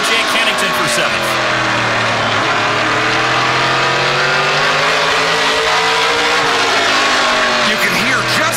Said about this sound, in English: You can hear just off the corner where the car wants to break traction.